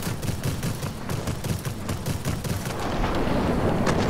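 Aircraft guns in World of Warplanes fire in continuous rapid bursts, a dense rattling stream of shots over a steady engine roar, loud and unbroken throughout.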